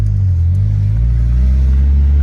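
Mitsubishi Eclipse built as a Fast and Furious replica, on its first test drive in a year and a half, its engine giving a loud, deep, steady rumble heard from inside the car without talk.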